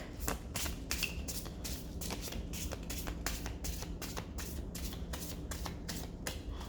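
A deck of cards being shuffled, a quick run of crisp riffling flicks and taps close to the ear, fairly quiet with no one speaking.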